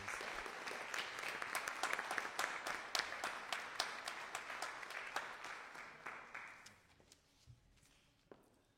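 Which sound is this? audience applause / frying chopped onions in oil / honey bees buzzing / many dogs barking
audience applause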